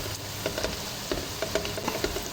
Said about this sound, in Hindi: चंद सेकंड फ्राई करेंगे।